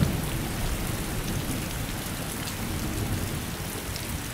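Steady heavy rain pours continuously on surfaces, a dense even hiss with faint distant rumbling beneath and no voices.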